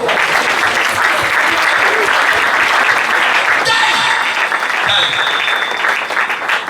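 A church congregation bursts into loud, sustained applause, close and steady throughout, with a few voices and cheers rising over the clapping.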